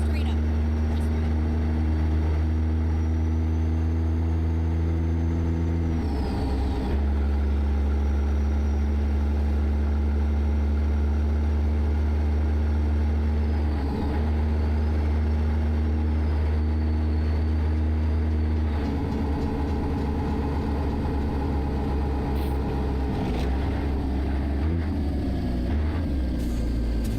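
Peterbilt 362 Cabover truck in American Truck Simulator cruising on the road, a steady low engine drone and hum running throughout with brief dips, while people talk over it.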